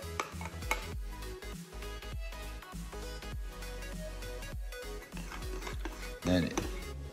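Protein oatmeal gets mixed in a bowl, with a spoon clicking and scraping against the sides in quick, irregular strokes, close and fairly quiet.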